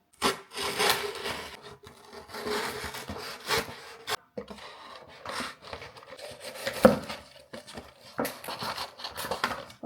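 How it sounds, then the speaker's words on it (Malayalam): A knife saws and scrapes through a cardboard Pringles box in irregular rubbing strokes with short pauses, close and fairly loud, with no talking. "നൈഫ് വെച്ച് കട്ട് ചെയ്ത് നോക്കാം"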